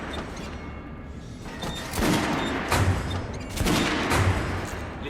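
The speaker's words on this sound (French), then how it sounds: "La Kalash, c'est une alliée fidèle dans l'arsenal du Ranger. Léger et entièrement automatique." A Kalashnikov automatic rifle in Metro Last Light Redux fires in rapid bursts of loud, dense gunfire, with short pauses between bursts.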